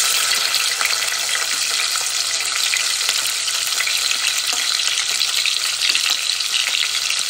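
Onion, green chilli and whole garam masala frying in oil, a loud, continuous crackling sizzle with occasional stirring scrapes, close up and without talk.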